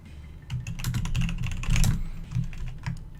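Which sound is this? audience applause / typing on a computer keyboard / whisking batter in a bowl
typing on a computer keyboard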